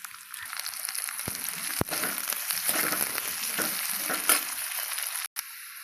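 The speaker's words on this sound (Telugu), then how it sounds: "కట్ చేసుకున్న రెండు ఉల్లిగడ్డలు వేసి ఫ్రై చేసుకోవాలి" Close, crackling sizzle of two chopped onions frying in oil toward golden brown for chicken curry, with a few sharp utensil knocks and stirring sounds throughout.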